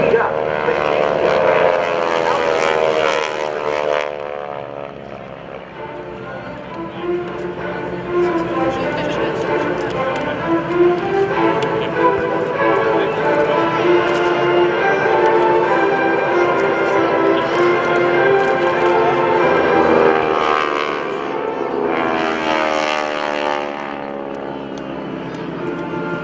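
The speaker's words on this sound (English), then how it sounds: "watch high above the target area as two aircraft are dispatched to assess the damage" GEICO Skytypers propeller aircraft flying over a Rhode Island airshow, engine drone rising and falling as planes pass overhead, with an announcer talking over the noise throughout.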